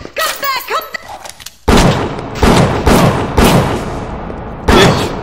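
Gunfire rings out in the video game Bioshock. A voice shouts at first, then a series of loud, sharp booming shots follows in quick succession, each with a short decaying tail.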